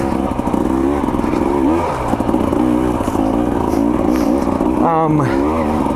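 A 2024 KTM 300 XC-W two-stroke dirt bike climbs loose, rocky, steep terrain, its engine loud and close with a rapid buzzing drone, rising revs and a sharp throttle blip near the end, while stones clatter under the tires.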